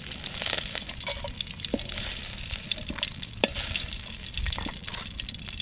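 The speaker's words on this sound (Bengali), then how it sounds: "আমার মাছ ভেজে গেছে, আমি মাছটা নামাই নিই।" Fish fries in hot oil in a wok, a dense continuous crackling sizzle with a few sharp spatters and spoon scrapes, close and without speech.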